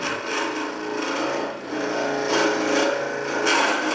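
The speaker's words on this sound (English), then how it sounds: "Whenever we get hard materials, slow the lathe down." A lathe turns a wooden tool handle while a cutting tool scrapes against it, giving a close, continuous rasping with small surges in loudness.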